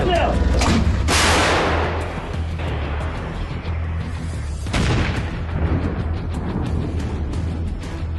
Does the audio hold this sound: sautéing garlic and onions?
no